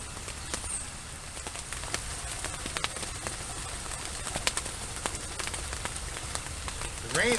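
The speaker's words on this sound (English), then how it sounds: "The rain is soft and it's pleasant" Soft rain falls steadily in a garden where violets are being divided, a continuous gentle patter with scattered drips and faint bird sounds, holding even and quiet for the whole stretch.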